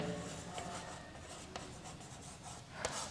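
A marker or chalk scratching across a board during a chemistry lecture, a soft continuous rubbing with a few sharper strokes, faint and close, with no speech.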